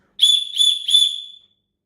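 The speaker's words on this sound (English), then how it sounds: "This is a signalling whistle if you get lost." A signalling whistle from a pocket survival kit, blown in three quick shrill blasts that run together, close and loud with nothing else around it.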